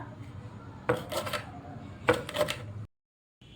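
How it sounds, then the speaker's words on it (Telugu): A knife cuts okra thinly for frying, with two distinct bursts of scraping, clattering cuts against a board, close and fairly quiet, then a brief silence before a faint start of another cut. "ఇప్పుడు బెండకాయలు అయితే కట్ చేస్తున్నాం"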